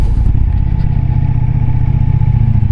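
A Ducati Diavel V4 motorcycle's exhaust rumbles loudly and steadily up close, a deep, even engine drone that holds throughout with no clear revving.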